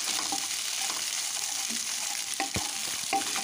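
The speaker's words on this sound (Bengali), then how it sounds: "ডিমটা ভালো করে ভেজে নেব," Egg is stirred and broken into large pieces in a hot pan for a bhujia, with steady sizzling frying and scraping stirs that tick throughout.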